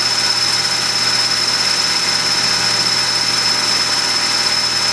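A Tormach Duality CNC lathe (PCNC 1100 setup) cuts a part with WD-40 applied, giving a steady, loud broadband machining whir with a constant high tonal whine, continuous throughout with no talk.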